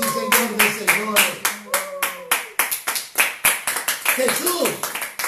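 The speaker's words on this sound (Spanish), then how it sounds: "Dale un aplauso al Rey de Reyes y Señor de Señores." A church congregation claps together, loud and close, with sharp irregular hand claps running throughout while voices call out and talk over the clapping.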